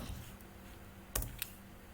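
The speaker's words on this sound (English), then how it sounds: "open a web browser and type Apowersoft Screen Recorder" Faint, quick typing on a computer keyboard while entering text into a web browser, with a couple of sharper key clicks standing out over a low background hum, close and without talk.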